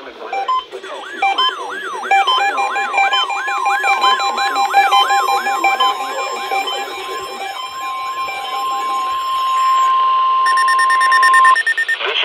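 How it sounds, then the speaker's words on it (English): NOAA Weather Radio emergency alert test tone from the National Weather Service office at Brookhaven National Laboratory, Upton, New York: loud warbling data bursts followed by a long steady single-pitch tone, then a final burst of encoded data. "The preceding signal was a test of the NOAA All Hazards Radio Public Warning System"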